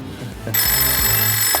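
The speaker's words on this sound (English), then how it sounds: "That's the phone." A telephone rings loudly and close after a brief moment of background noise, a sustained electronic bell tone that continues to the end.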